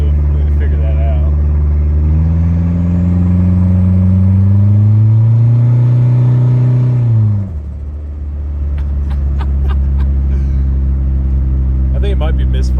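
Turbocharged Dodge Daytona engine, converted from throttle-body injection, revving up under acceleration with a loud climbing drone that cuts off abruptly on lift-off, then idling rumble with faint clatters.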